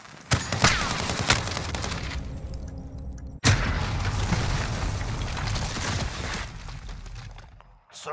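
Model 680 shotgun slug rounds fire in a Search and Destroy video game match, with two loud booming shots a few seconds apart, each followed by a long rumbling tail and a mechanical clatter.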